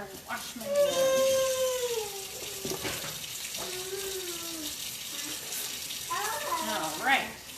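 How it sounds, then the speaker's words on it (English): Hands are washed under a running kitchen tap in the middle of cooking, a steady close stream of water that continues while someone talks over it. "Get this out of the way and wash my hands."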